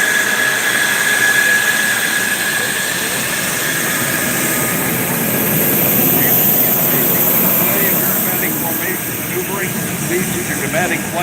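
Home-built airplanes fly at the Arctic Thunder 2022 air show in Anchorage, Alaska, with a loud, sustained engine roar that swells and fades while an announcer talks over a public address system.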